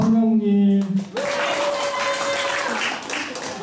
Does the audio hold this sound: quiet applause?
yes